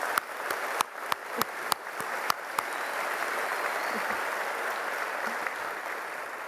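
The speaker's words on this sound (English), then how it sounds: "let's clap for that" Audience applause at a university spring commencement ceremony: a few sharp, separate claps open it, then a dense, even wash of clapping from a large crowd that holds steady to the end.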